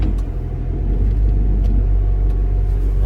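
A GMC Caballero, freshly tuned, cruises along a road with a steady, loud engine rumble and low road noise throughout, with no voices.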